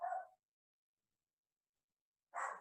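A pet dog gives two short, sharp barks, one at the start and one near the end, separated by about two seconds of silence, fairly close and clear.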